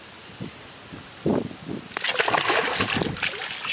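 A tambaqui fish released back into the water of a fishing tank gives a sudden, loud splash and sloshing after a few faint rustles, with water churning close by.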